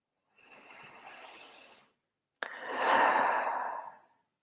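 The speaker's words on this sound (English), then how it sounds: "really slowly just taking 3 deep breaths in and out of your heart space" Two slow, deep breaths close by: a long, soft inhale, a brief pause with a small click, then a fuller, louder exhale that fades out, in an otherwise quiet room.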